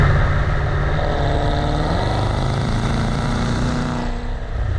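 A 2021 Maserati Ghibli Trofeo V8 pulls at half throttle, a loud steady engine drone climbing gradually in pitch from inside the cabin, then easing off at the end.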